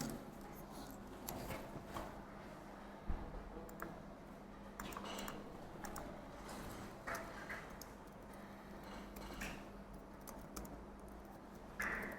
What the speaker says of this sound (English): let me type this